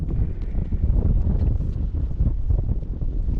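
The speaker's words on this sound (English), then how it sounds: "the wind's been difficult" Strong wind buffets the microphone during crappie fishing on open water as a cold front moves in, a loud, continuous low rumble with gusty swells and no clear talk.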